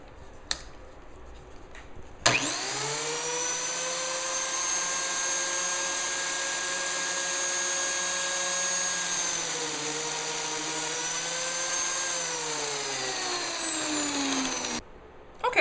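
A biscuit joiner's motor starts abruptly and whines loud and close, its pitch dipping briefly as the blade plunges into the wood before recovering, then shuts off near the end.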